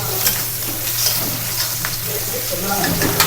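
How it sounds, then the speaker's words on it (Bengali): Long beans sautéing in oil with raw onion and garlic crackle in a close, continuous sizzle, with stirring scrapes and small clatters running through it. "বরবটিটাও একটু তেলে দিয়ে নিলাম ভুনা হচ্ছে এখানে"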